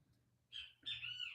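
A kiskadee gives two quick, loud, raspy squawks close by outdoors, the second one longer, over a faint low hum.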